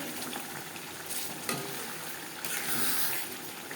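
Onions and spices cook in melted bhetki fish oil, giving a steady, moderately loud sizzle with occasional stirring scrapes and no talking.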